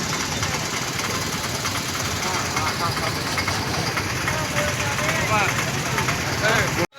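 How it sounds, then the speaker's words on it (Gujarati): Dense, steady road traffic at the crowded Jambuvan cave fair near Ranavav, a continuous loud rumble of engines and mixed noise with no pauses, cutting off abruptly at the end. "તો મિત્રો તમે જોઈ શકો છો કેટલી બધી ટ્રાફિક છે."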